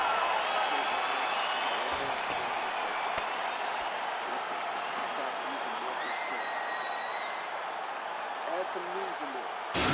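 A sustained, steady roar of a crowd cheering and applauding after a round of an EA Sports UFC 4 fight, broad and continuous for several seconds.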